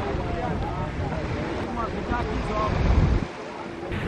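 Indian Ocean surf at Dar es Salaam, Tanzania, rolls in a steady wash blended with gusty wind buffeting the microphone, with a brief louder surge near the end.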